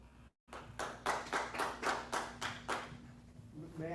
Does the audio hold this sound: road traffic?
no